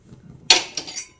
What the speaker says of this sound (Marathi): तवा ठेवून घेतला आहे